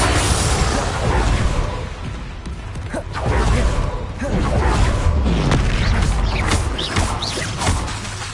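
Confringo and Bombarda spells in Hogwarts Legacy go off as repeated loud explosive booms and crashes during a busy battle, with a voice calling out among the blasts.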